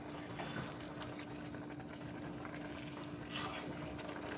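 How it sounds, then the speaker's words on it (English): Milk heating in a pot on the stove makes a steady, low bubbling hiss with a faint constant hum behind it, and no clear stirring strokes stand out. "I'm going to stir all the milk in here."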